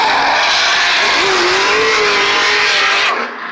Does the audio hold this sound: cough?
no